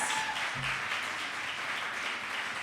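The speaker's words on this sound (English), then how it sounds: "Another round of applause." Audience applause at an evening community concert and forum event, a dense wash of clapping sustained across the short stretch with no talk over it.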